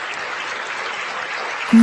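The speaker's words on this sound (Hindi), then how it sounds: "पोडियम पर पहुंचते ही तालियों की गूंज" Steady applause fills a room, many hands clapping evenly at a moderate distance, ending in a brief low tone.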